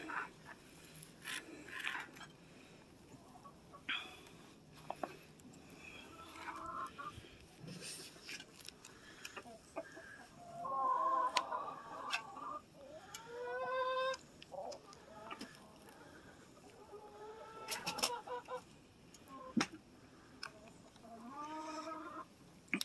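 Chickens cluck and squawk close by, with scattered rising calls and rustling over a steady outdoor background.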